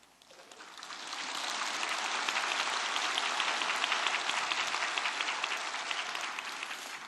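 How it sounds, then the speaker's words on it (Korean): Audience in a church applauding after a hymn sung in Hebrew; sustained dense clapping that swells in over the first second and holds steady, full and fairly loud, with no talk over it. "내가 히브리 노래했다고 여러분이 박수를 치는지 목소리가 좋다고 치는지는 잘 모르겠어요"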